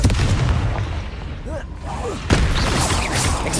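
In the video game Hogwarts Legacy, the Confringo fire spell lands with a heavy booming explosion. Rumbling blasts and whooshing magic effects follow, loud and close, with a second strong impact after the midpoint.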